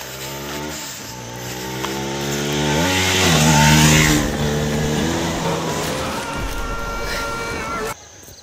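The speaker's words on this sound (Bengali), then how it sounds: "গাইস তোমরা জাস্ট ওই বাইকের স্টান্টটা দেখতে পারলে" A motorcycle guns its engine to climb a steep, high step in a stunt near a jungle temple. The loud engine whine rises in pitch several times, peaks, then cuts off sharply near the end.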